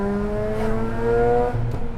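A 2008 Mazda RX-8 40th Anniversary rotary engine revs hard on a mountain road, its rising harmonic whine loud and close, with a short dip before climbing again near the end.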